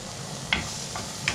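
Shallots sautéing in a pan, a steady soft sizzle with a few light scraping stirs, close and even throughout.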